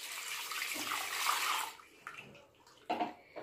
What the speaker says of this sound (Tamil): இந்த பருப்பு வேகிறதுக்கு தேவையான அளவுக்கு தண்ணி ஊற்றிக்கலாம்